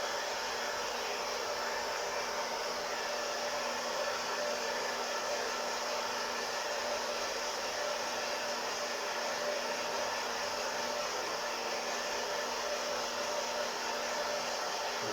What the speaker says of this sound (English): The fan's blowing them away so they don't go through the bottom of the machine.